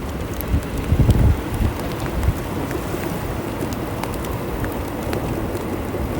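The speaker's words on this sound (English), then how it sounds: "The raindrops are just like spotting in from nowhere" Light rain falls outdoors near a bridge, a steady soft hiss with scattered drop ticks, wind buffeting the microphone and an occasional bird call, no talking.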